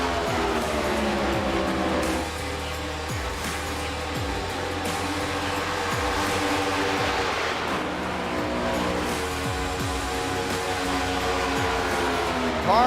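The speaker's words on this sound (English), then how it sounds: "Cars lining in" NASCAR Cup cars in the iRacing simulation roll out at Circuit of the Americas, a steady engine drone with repeated passing whooshes and shifting pitch, continuous throughout.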